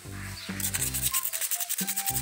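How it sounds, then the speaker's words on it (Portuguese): Dried handmade wall decorations shaped like a mushroom and a ladybug are sanded by hand in short rhythmic rubbing strokes, close and moderately loud. "Aí só lixar, ó. Vou lixar todos eles."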